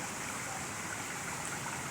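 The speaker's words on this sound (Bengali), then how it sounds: "দেখতেই পাচ্ছ ঝর্ণাগুলি অনেক সুন্দর" Park fountain water flowing in a large city park in the Maldives, a steady, even rush of splashing water heard close and alone.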